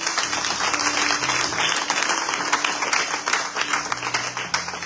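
A church congregation claps and cheers in praise of the Lord, dense sustained applause filling the room loudly with faint voices mixed in.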